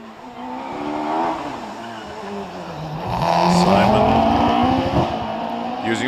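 A race car at a hillclimb event at Prescott accelerates hard, engine pitch climbing and dropping through a couple of gear changes, loud and nearby, with a commentator talking over it.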